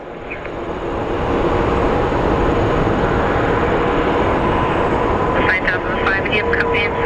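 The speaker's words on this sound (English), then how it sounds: "The banana plane has arrived." A Southwest airliner arrives at Phoenix Sky Harbor International Airport with a loud, broad engine roar that swells in and holds steady, while radio voices talk over it.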